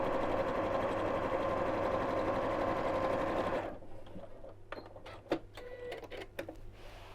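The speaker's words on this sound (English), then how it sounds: "leave my gap and carry on sewing, and then again sew down the opposite side on the short side." Sewing machine stitching quilt-as-you-go blocks, a fast steady mechanical whirr for several seconds that then stops, followed by quiet handling clicks and rustles of fabric.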